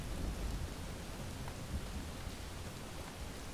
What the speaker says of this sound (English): it's raining and I want to not be here.